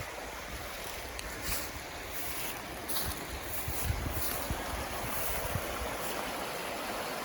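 Steady broadband rush of flowing water from Jeffers Brook, a small brook, continuous and fairly close, with no voices.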